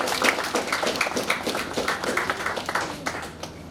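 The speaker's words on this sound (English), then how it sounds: "Round of applause for Avani." A workshop group of young writers gives a student a round of applause, dense and steady clapping from many hands that fills the room close by and fades slightly at the end.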